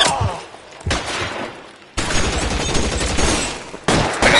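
Gunfire from the video game L.A. Noire on PS4 Pro comes in loud, sharp bursts: a short volley at the start, a pause, then a sustained dense barrage with another burst near the end.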